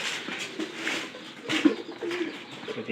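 Domestic pigeons cooing inside their new loft: repeated soft, low coos come in short bursts over a faint background hiss, fairly close.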